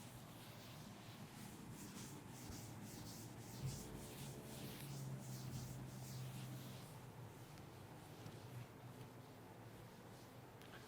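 Eraser or duster rubbing writing off a classroom board, a steady scratchy swishing that continues for about eleven seconds at low volume with no talking.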